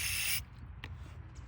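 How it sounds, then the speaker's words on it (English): A short, loud hiss of brake cleaner sprayed into a plastic Briggs and Stratton carburetor cuts off abruptly, leaving a quiet workshop with a faint tap. "Spray some brake cleaner in there"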